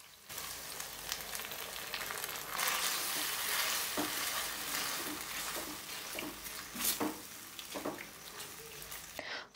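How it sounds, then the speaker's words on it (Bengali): Chilli mushroom sauce ingredients fry and are stirred in a pan, giving a steady sizzle with scraping stir strokes and occasional knocks, close up and without talk. "সবকিছু ভালো করে মিশিয়ে বেশ অনেকটা সময় ভেজে নেব।"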